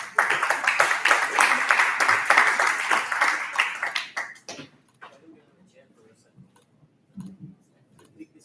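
Audience applause welcoming startup founders onstage at an entrepreneurship summit, a dense, loud wash of clapping that holds for about four seconds, then cuts off sharply into quiet hall ambience with faint stray sounds.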